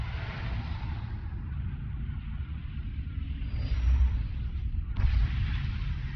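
A starship fleet opens fire in a Star Wars: The Old Republic, Knights of the Eternal Throne battle cutscene. Rumbling volleys of blasts roll on continuously, with heavier deep booms late in the stretch.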